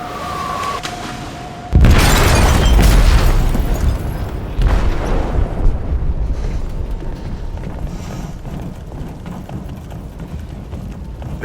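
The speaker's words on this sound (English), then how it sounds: "They detonated an explosive in the hold." An explosive detonates in a ship's hold in Detroit Become Human: a sudden loud deep boom breaks in after a quiet tone, then a rumbling roar slowly fades under a second lesser blast.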